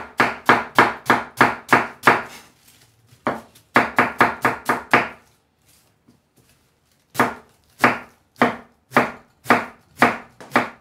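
A sharp knife chops cabbage for sauerkraut in rapid, loud, crisp strokes on a board. The fast bursts come in runs, with a pause in the middle of the sequence, and no one speaks.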